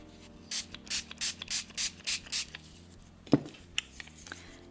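Seven quick spray bursts mist water onto a card in an even rhythm, each a short hissing puff close by, followed by a sharp tap and a few faint handling knocks.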